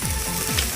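Small eggs sizzle and crackle steadily in hot oil, a continuous close frying hiss with faint stirring scrapes and no talking.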